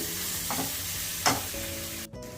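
Chutney paste for vada pav being sautéed in a pan, a steady close sizzle with a few stirring scrapes and a brief louder scrape near the end.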